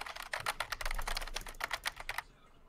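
Fast, loud keystrokes on a computer keyboard by an Overwatch collegiate league player, a dense clattering flurry of close taps lasting about two seconds before falling quiet.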